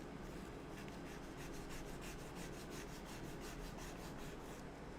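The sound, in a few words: sanding a designer toy with sandpaper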